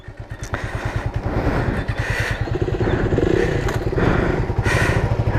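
A 2018 Bajaj Avenger 220 cruiser rides at low revs, its single-cylinder engine thumping in a close, steady pulse with slight swells in throttle and no talk over it.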